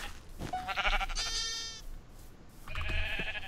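Sheep in the Minecraft video game bleat twice, close and clear, a wavering cry followed by a shorter one after a brief pause.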